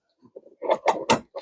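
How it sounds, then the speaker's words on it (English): Plastic and metal clicks and scraping as a LATCH connector on a Nuna Revv car seat clips onto the metal anchor bar, a few sharp close-up snaps in quick succession. "You're going to push it into the gap, and it's going to clip right onto the metal bar."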